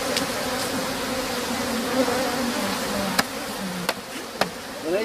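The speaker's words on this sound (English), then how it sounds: "these bees now are actually after the honey, so they're easy to shake off." A steady, dense buzz of honey bees after the honey fills the clip, with a few sharp clicks or taps cutting through near the end.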